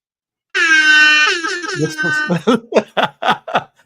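A loud horn-like blast holds for about a second, then breaks into a series of short, punchy bursts like a laughing sound effect.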